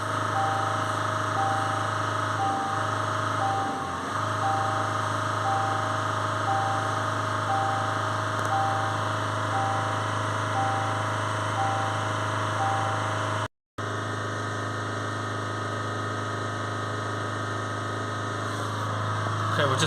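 A Range Rover Evoque engine runs steadily at raised revs during diesel particulate filter cleaning, a constant droning hum held close with little change, briefly cutting out before resuming.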